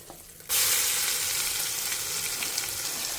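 Mustard seeds and urad dal splutter in hot oil, a loud, dense crackling sizzle that bursts in suddenly after a quiet moment and holds steady to the end.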